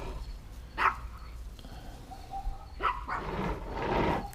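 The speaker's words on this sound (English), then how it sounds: "as I'm getting attacked by chihuahuas again" Chihuahuas barking outdoors, two or three short, sharp yaps spaced apart at moderate distance, followed by a rougher, longer burst of yapping and scuffling toward the end.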